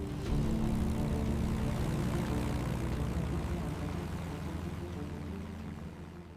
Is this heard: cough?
no